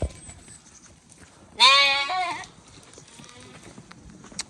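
One sheep in a village flock of sheep and lambs gives a single clear, wavering bleat of under a second, with faint rustling and footsteps around it.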